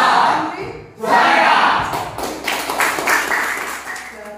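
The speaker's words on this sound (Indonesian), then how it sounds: "Tepuk tanganmu tetap semuanya, tepuk tanganmu tetap semuanya, tepuklah tanganmu tetap semuanya" Students in a classroom clap their hands in bursts of rhythmic, close claps mixed with chatter and voices, starting after a brief pause and continuing in uneven pulses.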